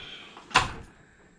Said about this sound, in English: another miscellaneous drawer with